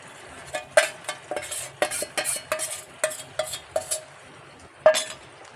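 A spoon scrapes and stirs a thick paste of ground coconut, cashew, melon seeds and sesame in a pan, giving a run of irregular clinks and scrapes with soft sizzling underneath, with no talk.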